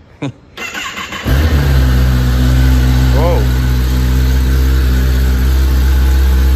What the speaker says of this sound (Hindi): फिलहाल तो गाड़ी को अभी कोल स्टार्ट कर रहा हूँ